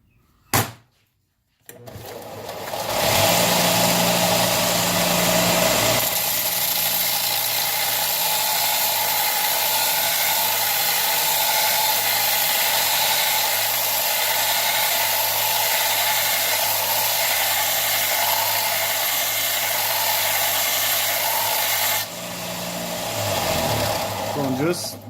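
A Harbor Freight belt sander clicks on and runs loud and steady for about twenty seconds with a harsh abrasive whine, then spins down and stops.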